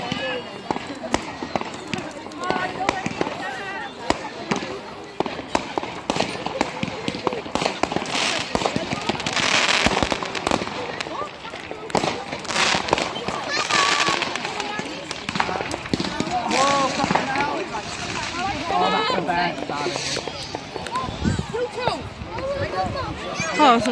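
Firework rockets and crackling bangs go off outdoors on Bonfire Night, popping and fizzing through the whole stretch as people talk.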